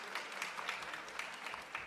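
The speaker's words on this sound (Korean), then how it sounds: "여러분 열정적으로 세션 이끌어주신 위원장님과 위원님들께 다시 한번 큰 박수 보내드리겠습니다" Closing applause from a conference audience at the end of the epilogue session of the World Ocean Forum. Dense, even clapping from many people, moderately loud and sustained.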